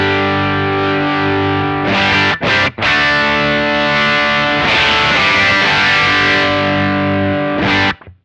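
Electric guitar played through a Tech 21 SansAmp PSA 2.0 preamp pedal cranked up for heavy distortion and extra top end; loud sustained chords ring with a couple of brief breaks before the final chord cuts off.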